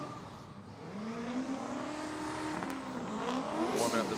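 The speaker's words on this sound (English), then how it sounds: "Warming up the tires, the GT radials to be specific" A drift car engine revs steadily on GT Radial tires while they warm up at a Formula DRIFT PROSPEC event, with faint tire squeal rising underneath, moderately distant.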